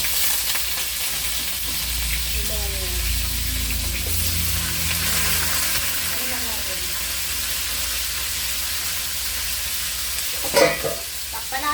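Washed dried fish (tuyo) frying in a little oil gives a steady, close sizzle with soft stirring scrapes, a faint voice in the background and a sharp clatter near the end.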